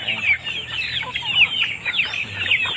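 A flock of domestic ducks crowds in close for feeding, with dense overlapping high chattering quacks and calls running continuously and fairly loud, with no talking over them.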